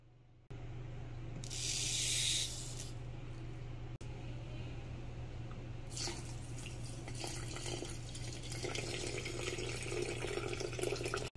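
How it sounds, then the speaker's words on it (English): Brine poured into a jar of fermenting mustard made with spicy brown and yellow mustard, a steady watery hiss and trickle over a low hum, with a brief splashy burst near the start and busier liquid noise toward the end. "Got that beautiful brine going in."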